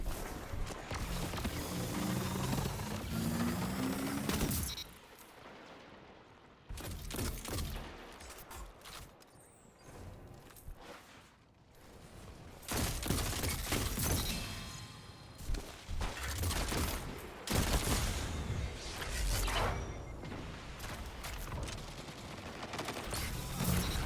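Machine gun fire in a Destiny 2 PvP match rattles out in rapid bursts separated by brief lulls, mixed with mechanical clicks and clatter, fairly distant and uneven in loudness throughout.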